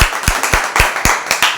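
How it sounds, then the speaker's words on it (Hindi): A church congregation at a Wednesday service claps in a quick, uneven burst of sharp, close hand claps, loud and with no talking over them. "एक जोरदार ताली बजाइए।"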